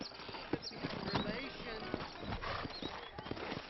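Horse hooves clip-clop steadily in the video game Red Dead Redemption on Nintendo Switch, with several horses moving at a walk in a busy, close mix while someone talks over them.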